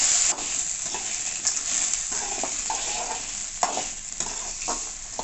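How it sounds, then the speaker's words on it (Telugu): Green chillies frying in a pan for white gongura chutney, a constant crackling sizzle broken by repeated scraping strokes of a spatula, close and loud, with nobody speaking. "పచ్చిమిర్చి వేసిన తర్వాత ఇలా బాగా వేయించుకోవాలి."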